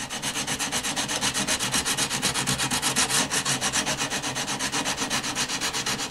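Steady back-and-forth rubbing of 80 grit sandpaper on guitar wood veneer, a fast regular rasping rhythm, close, loud and continuous with no voices.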